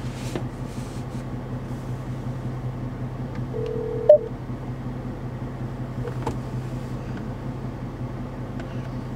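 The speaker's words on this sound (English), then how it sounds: "Oh no, my phone. My phone ringing going on." A phone rings with a short electronic tone inside a Dodge Charger Scat Pack while driving, a brief single burst over the steady low rumble of the car's engine and road noise.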